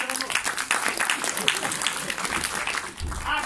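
A theatre festival crowd breaks into applause, with scattered clapping mixed with cheering voices for a few seconds.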